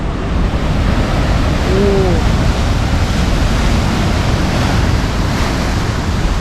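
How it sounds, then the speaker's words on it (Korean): Ocean surf crashing onto a rocky South African shore, a loud continuous roar of breaking waves with heavy wind buffeting the microphone throughout. "여기 파도 치는 거나 한번 보려고 왔습니다"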